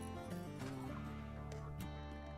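Turkeys gobbling in the Rimworld video game, a burst of bird calls heard over steady background game music, with no talking.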